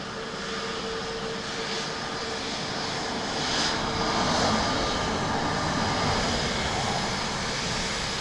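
An airliner comes in to land at Dublin Airport on runway 28 left, its engines a loud, steady roar that swells slightly midway and holds, with no voices over it.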